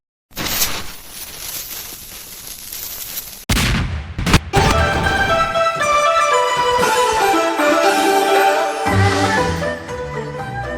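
Firecrackers go off in a Gmod animation for Chinese New Year: a dense crackling burst of rapid pops, a short gap with a few sharp bangs, then a festive musical passage rings on loudly.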